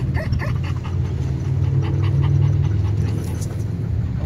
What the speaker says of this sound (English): He's barking over there, so there's a little bit of a dog distraction